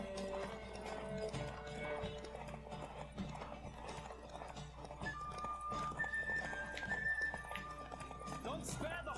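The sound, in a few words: horse galloping in video game The Witcher 3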